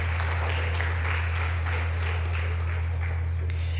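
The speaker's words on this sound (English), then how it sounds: "Please, let's clap." Audience applause at a food safety conference, a steady patter of many hands clapping together over a loud low electrical hum, sustained without a break.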